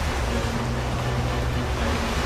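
Stormy sea waves roar in a dense, constant wash of loud surf during a sudden ocean storm, with waves rising about 40 feet high; no voices are heard.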